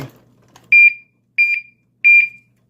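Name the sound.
alarm of Chinese smiley face padlock going off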